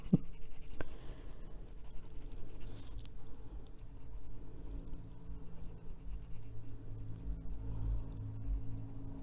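Colored pencils scratch across paper alongside Inktense ink work on a drawing of a cat, a soft, continuous dry scraping with small bursts of strokes, close and quiet throughout.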